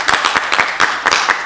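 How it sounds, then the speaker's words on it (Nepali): A crowd gives loud, close applause, with brisk, uneven clapping that runs unbroken from start to finish and no voices over it. "उहाँलाई जोरदार ताली।"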